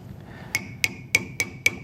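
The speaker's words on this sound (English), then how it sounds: "I'm using a goldsmith hammer." A small smooth-faced goldsmith hammer strikes sheet metal during fold forming, giving five sharp, ringing metallic taps at a steady, slightly quickening pace, close and clear over a quiet room.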